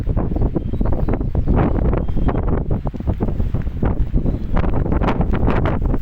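Wind blowing hard across a hilltop temple site at sunset, a loud continuous buffeting roar that batters the microphone throughout, with no voices.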